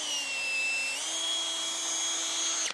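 Power buffer polishing a car headlight on a Chevy Impala with 3M rubbing compound, a high steady whine close by that shifts pitch briefly, then cuts off at the end.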